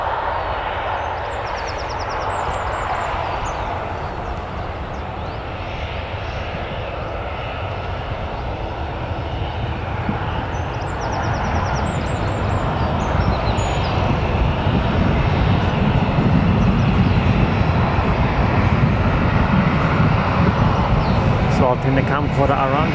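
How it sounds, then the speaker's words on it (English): An EasyJet airliner comes in to land at Newcastle Airport with a steady jet-engine roar that swells louder toward the end, while people talk in the background. "we're going to have an EasyJet touching down in just a minute"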